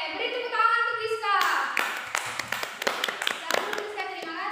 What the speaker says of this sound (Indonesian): Oke, beri tepuk tangan untuk Rizka.